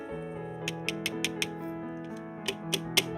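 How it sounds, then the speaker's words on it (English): Keys clack on a keyboard with a lightweight, flimsy 3D-printed plastic case, a sparse run of sharp, hollow clicks spaced irregularly over a steady background hum. "Can you hear this? This is the keyboard. The case of the keyboard."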